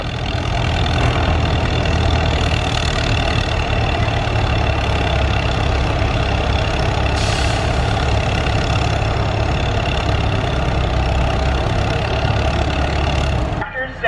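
An Allis-Chalmers WD-45 tractor engine runs at a steady idle in the 5,500-pound class of an antique tractor pull, a continuous low rumble for most of the stretch with crowd and announcer voices mixed in, cutting off near the end.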